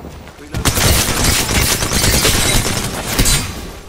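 Sustained automatic gunfire in a video game erupts after a brief quiet start, dense rapid bursts continuing loudly for several seconds, close and dominant.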